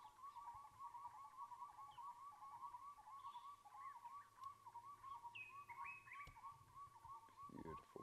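Repeated bird calls ring out through a live African safari broadcast, a steady series of short chirping notes near 1 kHz over a quiet bush background, fairly distant and moderately clear.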